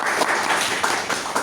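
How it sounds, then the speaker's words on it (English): Audience at a Toastmasters club meeting clapping for a speaker, a short burst of moderately loud, steady applause from a small room crowd. "Give one big round of applause to her"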